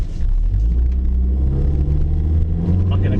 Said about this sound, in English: But the car's driving great.